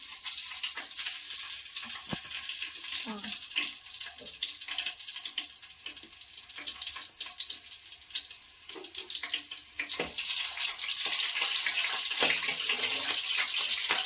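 Green chillies fry in hot oil with a steady, close sizzle that holds throughout and grows fuller and more even toward the end, over occasional clinks.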